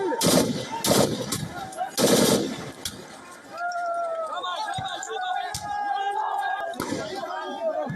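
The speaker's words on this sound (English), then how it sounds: "heavily armed Pakistani forces can be heard firing incessantly at protesters waving a Palestinian flag" Gunfire from heavily armed Pakistani forces shooting at protesters, heard as loud bursts of repeated shots early on, then a noisy crowd and chatter with occasional sharp cracks.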